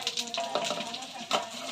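Potatoes tipped into hot oil in a home kitchen sizzle and crackle steadily, with a few brighter bursts of spattering as the pieces hit the pan, close by and moderately loud.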